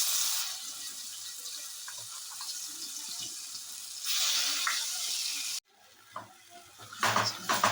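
Spice paste frying in hot oil in a kadhai (wok) for cashew curry, a steady loud sizzle throughout with brief stirring clatter, dropping suddenly near the end before bursts of sputtering return.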